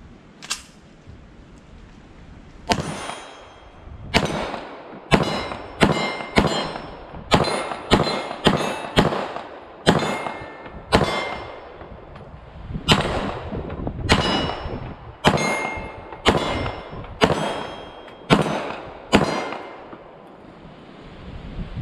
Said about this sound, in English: Give them some shots with the PDP Pro.